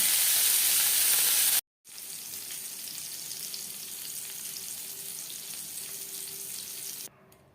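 Eggplant slices fry in hot oil with a steady, close sizzle; a loud burst opens, then a short break, then continuous crackling frying with no voices.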